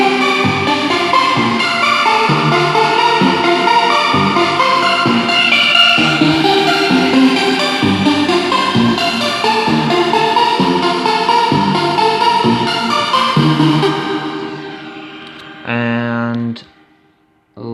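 A pulsing synth part from an electronic music track in progress repeats in a steady rhythmic pattern, loud and busy, fading out near the end before a brief separate burst.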